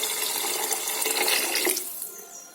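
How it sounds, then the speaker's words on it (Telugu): Water is poured onto soaked rice with turmeric and rock salt in a cooking pot, a steady splashing rush for nearly two seconds that then tapers off quickly. "నానబెట్టుకున్న బియ్యం ఒక పావు బియ్యానికి 2 పావులన్నర వాటర్ పోసేసుకోవాలి"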